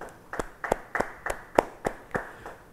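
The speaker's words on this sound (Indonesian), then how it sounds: "Yang setuju, beri tepuk tangan bagi dia." A church congregation claps together at a Bible study service, about nine sharp claps in a steady, even rhythm, fairly close and with no voices over them.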